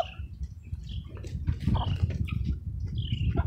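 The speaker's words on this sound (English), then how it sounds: "It's a lot of chickens over here." A flock of chickens in a garden chirps and calls in scattered, bright bursts close by, with soft rustling and pecking sounds underneath.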